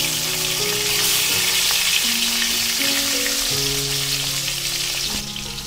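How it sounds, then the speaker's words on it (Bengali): Diced parboiled potatoes fry in hot oil, a loud, even, continuous sizzle with steady background music underneath. "এবারে আমি এই তেলের মধ্যে দিয়ে দিচ্ছি আলু"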